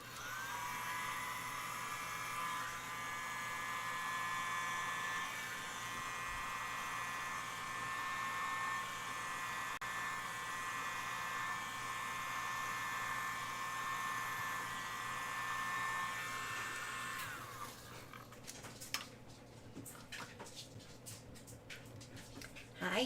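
A hair dryer blows on wet paint with a close, steady whining hum for about seventeen seconds, then cuts off and leaves quieter scattered rustles and handling noises.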